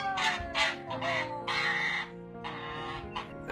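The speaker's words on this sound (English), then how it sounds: "Looks like you're being attacked by an angry goose." An upset goose honks and squawks at a woman during a reunion, a run of loud, harsh calls in quick bursts with brief pauses between them.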